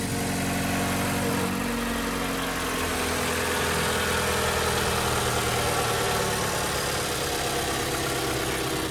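A Mazda CX-3 engine idling steadily at close range, a continuous low rumble with a faint vibrating hum and no voices.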